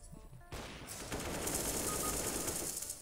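Rapid automatic gunfire in Counter-Strike: Global Offensive breaks in after a quiet half second, then continues as a dense, loud burst of shots to the end.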